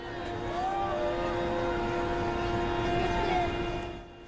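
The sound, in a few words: helicopter interior during flight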